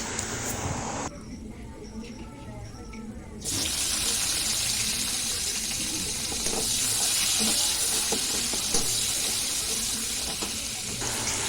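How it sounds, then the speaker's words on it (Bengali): Chopped onions hit hot oil with whole garam masala spices and set off a loud, steady hiss and sizzle that continues close up, after a brief quieter moment of lighter frying. "এবারে দেব কুচানো পেঁয়াজ"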